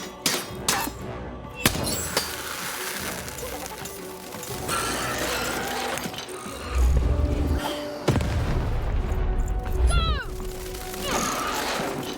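Cannon blasts in the video game Lost in Random, heavy booms with shattering, crashing debris over a busy game soundtrack, several loud bursts across the stretch.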